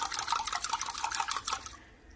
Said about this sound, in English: And I'm just going to pour this marinade right on top.